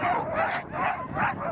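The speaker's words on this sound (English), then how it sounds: "we set off to meet our dogs." Sled dogs bark, yip and whine in an excited, overlapping chorus before a dog-sledding run on a frozen lake near Kirkenes, Norway, in minus 11 °C winter cold, loud and close, continuous throughout.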